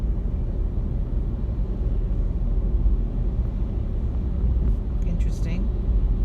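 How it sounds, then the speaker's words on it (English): A heavy logging truck rolls past with a low, steady engine rumble that stays loud throughout. "Mr. Logging Truck is going to the casino."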